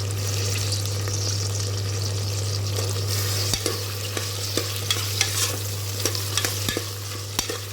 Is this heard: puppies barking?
no